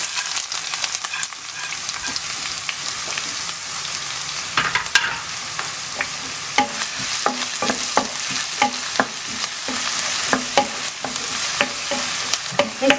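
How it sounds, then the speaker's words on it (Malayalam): Finely chopped onion frying in a pan for Kerala mushroom roast, with a steady broadband sizzle and repeated sharp scrapes of a spoon stirring against the pan throughout, close and fairly loud, no talking. "ഇനി നമുക്കതിലോട്ട് സവോള അരിഞ്ഞത് ഇട്ട് കൊടുക്കാം."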